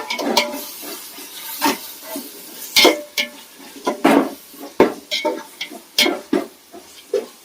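Mint and coriander leaves sautéing in a pan after garlic, with repeated utensil scrapes and stirring knocks over a light sizzle, fairly close and steady.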